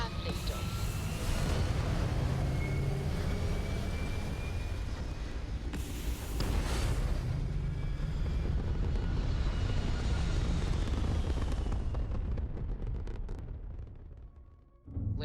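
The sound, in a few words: spacecraft liftoff, from a video game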